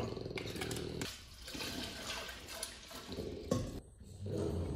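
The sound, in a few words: milk being poured into a bowl for brioche dough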